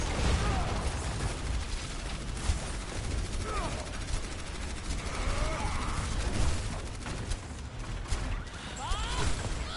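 Rapid bursts of gunfire from a Surge: Imperium match, dense and continuous across the clip, with sharp crack-like transients standing out against a busy game soundscape.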